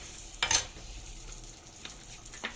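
Food hits hot ghee in a pan with a sharp sizzling burst, then settles into a steady, quieter frying crackle with a few faint clinks near the end.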